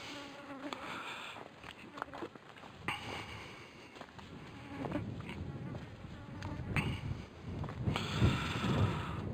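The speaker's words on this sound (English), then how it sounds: "Full of wasps down there." Wasps buzz steadily close by, a droning hum that swells and fades over a rustling outdoor background, with no voices.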